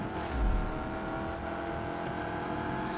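A car engine in Just Cause 3 hums steadily while driving, with a brief low thump near the start, moderately loud and continuous with no speech.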